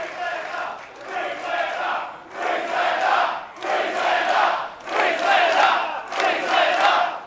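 A wrestling arena crowd at a WSW tag team championship match roars and cheers for a hometown wrestler, loud, sustained swells rising and falling in several waves with no pauses.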